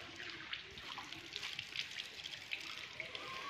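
Faint trickling and dripping cold water with small splashes as someone washes their face, soft and close, no one speaking.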